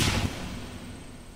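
Gunfire in an action film: a sharp, loud shot bursts at the start and then trails off into a fading rumbling echo.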